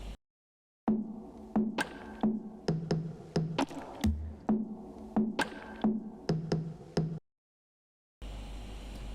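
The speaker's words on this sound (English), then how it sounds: "another side splice sample, like a bongo loop" A sampled bongo loop plays in a beat, with crisp hand-drum hits repeating in a quick steady rhythm, alone and fairly loud, before a short silence and a burst of noise at the end.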